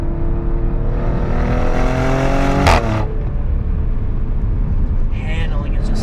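Maserati Grecale Trofeo pushed hard into a corner: a loud, steady engine drone with rising and falling harmonic tones as it revs, a sharp shift-like break midway, and a voice talking over it throughout.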